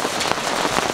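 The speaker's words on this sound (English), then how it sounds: "absolutely belting down with hail right now" Dense, hard pattering pours down nonstop, a heavy downpour of hail drumming on surfaces at a campsite in the Barrington Tops, loud and close with no voices.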